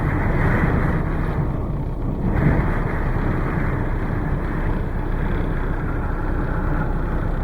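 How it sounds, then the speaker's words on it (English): Strong blizzard wind of at least 50 mph blows hard and steadily, a loud, continuous roar buffeting the microphone throughout with no talking. "the power of that wind, but it's blowing. It's got to be blowing at least 50 miles an hour."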